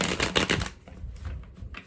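A tarot card deck being shuffled, a quick riffle of cards ticking and fluttering close by, loudest at the start and then settling into softer shuffling.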